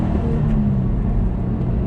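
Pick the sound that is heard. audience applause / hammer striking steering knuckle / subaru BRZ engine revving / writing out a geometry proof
subaru BRZ engine revving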